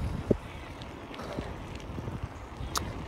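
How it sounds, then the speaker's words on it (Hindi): Steady low wind rumble buffets the microphone while riding a bicycle outdoors on a cold, breezy day, continuous and fairly loud with a few light bumps and no talking. "ठंड भी लग रही है, हवा चल रही है ना"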